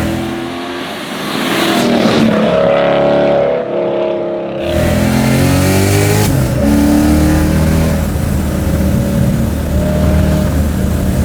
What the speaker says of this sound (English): It definitely doesn't sound like Grandpa's E30.